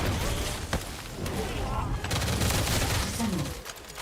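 Rapid automatic gunfire from a shooter in The First Descendant, firing at an enemy in dense bursts across the whole stretch, loud and continuous with a sharp crack early on, mixed with game effects and faint talk.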